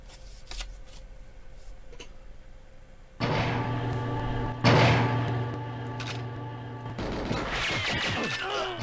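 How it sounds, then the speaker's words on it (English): Rapid pistol fire from the PP7 in the video game GoldenEye comes in quick bursts of sharp, crackling shots. The shots grow louder and denser in the second half, with no talking over them. "Nice shots. Probably 9 shots there. 6 more. And then 12 more."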